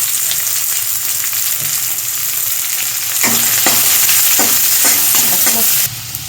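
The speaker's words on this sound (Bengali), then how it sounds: "কেটে রাখা ঝিরিঝিরি ছোটো ছোটো করে যে পেঁয়াজগুলো কেটে রাখলাম সেইগুলো আগে দিয়ে দিচ্ছি।" Thinly sliced onions frying in a hot pan for restaurant-style chilli chicken, a steady loud sizzle with a few spoon-stirring scrapes partway through, no voices.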